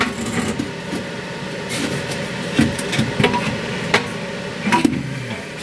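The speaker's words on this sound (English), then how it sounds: "So I've got to muscle this exhaust pipe" An exhaust pipe on a 1994 Mazda Miata is muscled into position, giving scattered metallic knocks and scraping clunks, a few sharper bangs near the end, close up over a steady background hum.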